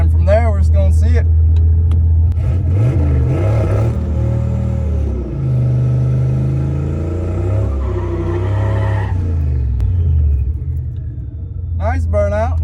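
A turbocharged Fox-body car does a burnout at a drag strip, its engine revving hard with wavering, rising and falling tones and tire squeal, loud and close, with brief talk at the start and end.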